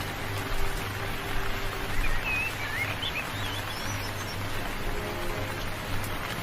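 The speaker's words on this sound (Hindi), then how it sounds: "तभी वहाँ पर बारिश शुरू हो जाती है।" Steady rain patters on surfaces in a continuous hiss, with a few faint bird chirps rising above it.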